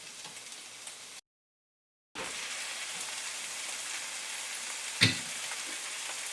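Pasta frying in a hot pan, a steady bright sizzle that drops out briefly and returns, with a single sharp clatter near the end.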